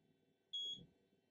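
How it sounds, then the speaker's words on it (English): An xTool M1 laser engraver gives a single short, clean electronic beep on connecting, brief and fairly faint against quiet room noise. "you might have heard it beep"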